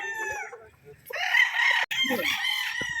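A young gamecock stag crows at a gamefarm, one long loud crow close by with clucking and other fowl sounds around it.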